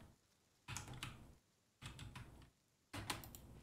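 Typing on a computer keyboard during a Goat Simulator stream: three separate bursts of rapid, clattering keystrokes, close and faint, with quiet pauses between them.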